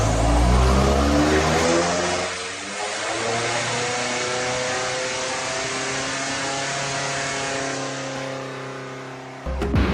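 A BMW M5 Competition in limp mode revs on a dyno before tuning. The engine holds a loud, sustained, rising drone for several seconds, then cuts off abruptly near the end.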